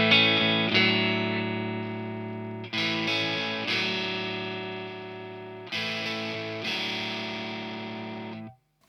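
An electric guitar through an Oh Brothers AM pedal on its overdrive setting plays sustained, compressed distorted chords, struck about six times in a slow rhythm, each ringing out before the next, with no talk.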